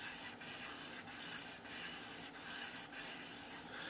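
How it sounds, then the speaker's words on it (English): Steady abrasive rubbing of 2000 grit sandpaper against a needle's bevel, a continuous close scratchy hiss with slight rhythmic dips about every 0.7 seconds as the stroke reverses, with no talking. "So I'm making sure that I get even sanding across the entire bevel all the way around evenly."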